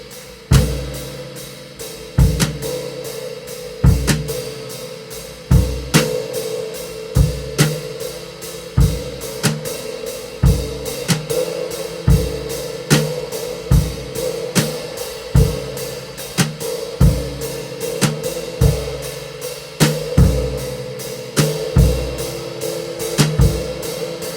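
A drum exercise for non-drummers on cymbal, snare and kick drum, with steady evenly spaced hits over a ringing cymbal wash and sharp accents about every second, loud and close with no talk.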